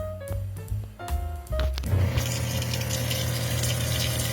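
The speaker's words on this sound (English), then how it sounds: "Will the water run?" A camper van's water pump hums and clicks on and off, then a tap gushes with a strong, steady rush of running water, heard close and alone.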